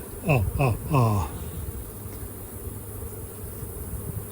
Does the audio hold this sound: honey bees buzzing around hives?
yes